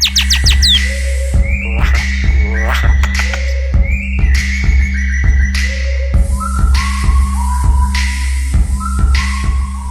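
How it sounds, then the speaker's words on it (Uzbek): Talking Afghan myna bird calling up close, loud repeated whistles, chirps and squawks in short varied phrases with brief pauses between them, over a steady low hum. "Afg'on maynasi, xalq tili bilan aytganda olaqanotlar."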